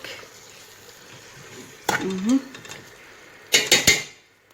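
Meat for a prune tagine is turned in a pot, giving a couple of short bursts of metal scraping and clattering between quiet stretches, with a brief voice sound in the middle.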